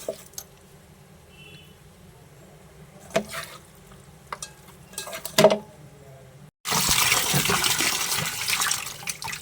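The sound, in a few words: water running while washing raw chicken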